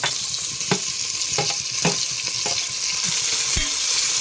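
Sliced onions and two tomatoes fry in a pan for fenugreek sambar, a steady close sizzle with a few sharp scrapes of a spoon stirring against the pan, no voices.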